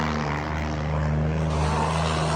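A John Deere 5050D tractor engine gives a steady, loud drone with a deep throbbing hum, continuous and close, resembling the roar of a propeller airplane.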